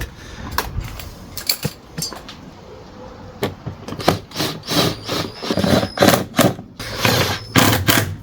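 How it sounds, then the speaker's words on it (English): A power drill starts and stops in a series of short, close bursts while drilling into an engine part of a wrecked VW Polo 1.2 TD, getting busier toward the end, with scattered metallic clatter in between. "you can do the drilling"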